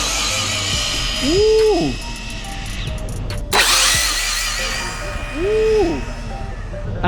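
An RC car on a 6S battery accelerates hard in two bursts, each a rising then falling motor whine, with outdoor noise between and a brief exclamation from a person.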